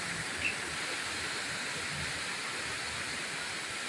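A strong waterfall roars as a steady, broadband rush of falling water, even and continuous throughout with no voices.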